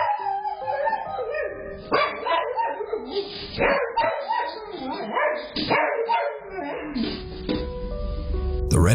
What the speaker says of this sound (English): the family dog just goes nuts.